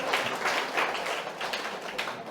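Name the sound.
audience applause in church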